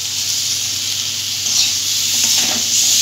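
Two hilsa fish heads go into a hot pan with spices and green chili paste for a cabbage curry, producing a loud, steady, close-up sizzle and hiss that continues throughout with no talking.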